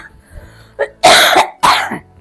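A person coughs close up: a small throat sound, then two loud, harsh coughs in quick succession.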